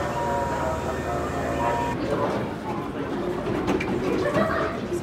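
Train pulling into a station platform in Kyoto, Japan, a steady low rumble and hum that shifts into a clattering rolling noise partway through, with people talking nearby.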